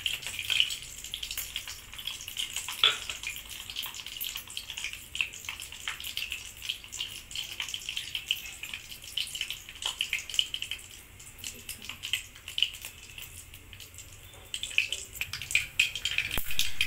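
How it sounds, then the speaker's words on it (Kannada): Mustard seeds spluttering in hot oil while cooking rava vangi bath, giving a steady close crackle scattered with small sharp pops and no talk. "ಈಗ ಸಾಸಿವೆ ಚಿಟ್ಕುಟ್ಟಿದೆ"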